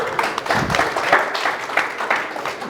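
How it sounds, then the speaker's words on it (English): An audience claps for a prize winner at a hurling final event, a brief round of scattered applause at moderate volume. "Big round of applause for Kate."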